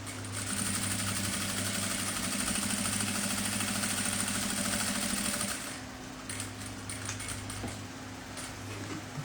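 A sewing machine runs steadily, stitching double-faced satin lining for a two-part zippered pouch, with a dense mechanical whir for about six seconds before it stops, leaving quieter handling noise.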